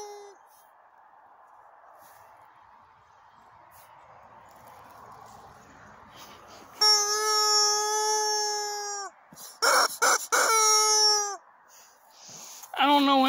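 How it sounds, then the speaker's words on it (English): A rubber chicken toy squeals in long, loud, wailing honks, first one sustained squawk, then choppy bursts and another drawn-out squeal, following a quiet stretch of soft background noise. "I like how that's gonna be the debut of the new rubber chicken."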